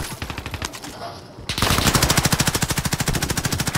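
Rapid automatic gunfire in the video game Call of Duty: Modern Warfare, a steady machine-gun rattle that starts lighter and then bursts louder and denser halfway through, with no talk over it.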